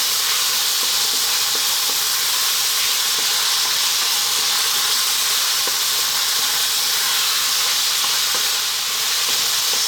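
Garlic ginger paste sizzles hard in a curry pan over high heat, a loud, steady, close frying hiss that fills the whole stretch without talk.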